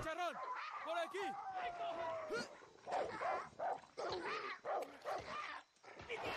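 Dogs bark, yip and whimper amid gunfire and combat noise in the video game Far Cry 6, with people talking over the dense, busy action.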